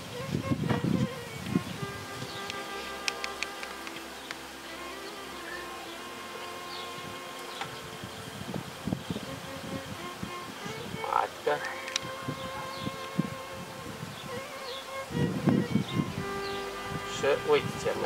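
Honeybees buzz steadily around a freshly populated nucleus hive while queen cells are being placed, a close, continuous hum with scattered individual bee passes and handling noises throughout.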